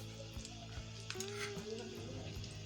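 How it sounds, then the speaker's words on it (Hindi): Potato tikki patties fry in a pan with a steady, close sizzle and occasional spatula scrapes, under a low background hum. "तो इसी तरह फिर हम सारी टिक्कियाँ फ्राई कर लेंगे।"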